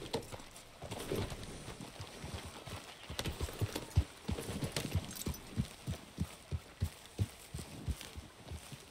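Rhythmic hoof clip-clops of horses trotting in the video game Red Dead Redemption 2, steady and fairly close, over a low ambient background.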